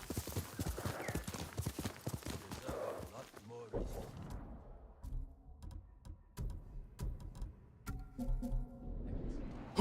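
A horse's hooves clip-clop at a steady walking pace in the video game Ghost of Tsushima, close and crisp, with a brief whinny and a voice talking over part of it.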